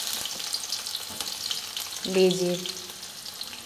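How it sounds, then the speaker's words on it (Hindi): Finely chopped onions with asafoetida fry in oil for a hotel-style butter masala paneer, a soft steady sizzle with a brief louder clatter midway and a few spoken words. "अब प्याज को हम भून लेंगे"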